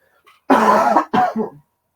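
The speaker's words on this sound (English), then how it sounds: "I'm gonna cough, so just heads up." A single close, loud cough, then a shorter second cough burst, in an otherwise quiet room.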